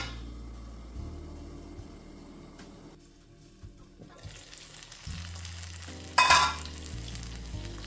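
Matki bhaji cooks on low flame, a soft intermittent simmering sizzle with faint stirring scrapes and one brief louder clatter, quiet and close.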